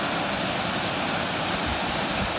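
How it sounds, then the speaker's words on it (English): Waterfall at the Hagley Hall Ornament Bridge in Staffordshire, a steady broadband rush of falling and flowing water filling the clip evenly and close, with no voices. "you've got the waterfall flowing by, which flows through all the way over there"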